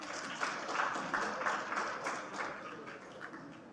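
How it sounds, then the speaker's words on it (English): Audience at a university convocation gives a steady round of applause for graduates, moderately loud clapping with slight swells throughout. "Have a round of applause for all of them."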